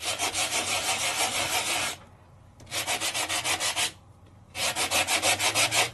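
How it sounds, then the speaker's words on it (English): Gentle hand sanding across the top of a craft piece, a steady rhythmic rasping scrub in close bursts, with two short pauses between strokes. "sand off the top"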